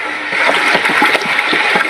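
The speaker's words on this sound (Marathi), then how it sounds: "मला खळखळ अशी उकळी येत आहे" Liquid boils vigorously while homemade 19-19-19 fertilizer is being made, giving a close, steady bubbling and gurgling churn throughout with no talking.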